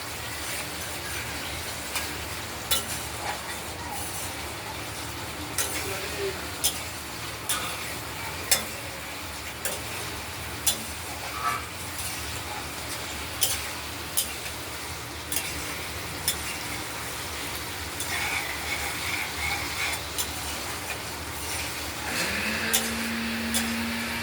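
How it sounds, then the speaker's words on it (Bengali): A spice paste fries in oil for a paneer curry, with steady sizzling under repeated scraping and stirring strokes that continue throughout. "খুব ভালোভাবে মশলাটা আমরা কষিয়ে নেব।"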